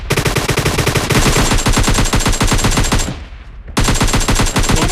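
Rapid automatic gunfire from a Groza rifle in PUBG Mobile Lite, loud continuous bursts of shots that pause briefly near the end before resuming.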